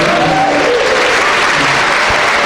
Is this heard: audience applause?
yes